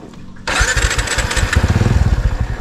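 A motorcycle engine cranks and fires after a quiet moment, catching abruptly and settling into a loud, close, pulsing idle with a rhythmic chug.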